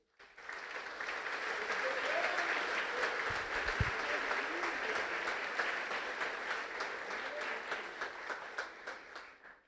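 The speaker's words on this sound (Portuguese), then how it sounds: "Pode aplaudir o Senhor." Church congregation applauding during a Portuguese-language sermon, a steady dense wash of many hands clapping that holds loud and even for the whole stretch, with a few soft voices mixed in.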